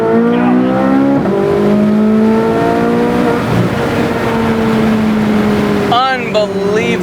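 A 2023 Corvette Z06 engine pulls hard, its rising harmonic tones dropping with each gear shift and climbing again, loud and continuous, with a sharp rev change near the end.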